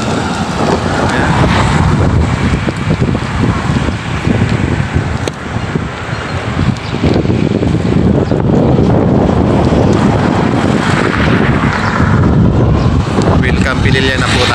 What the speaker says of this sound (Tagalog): Mahangin dito sa ngayon.